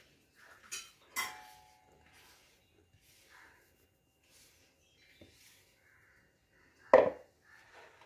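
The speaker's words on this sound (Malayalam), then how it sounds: "നന്നായിട്ട് മിക്സ് ചെയ്യാം അല്ലേ" Maida flour batter is mixed in a bowl, heard as sparse spoon clinks and taps against the bowl in mostly quiet surroundings, with a voice speaking between them.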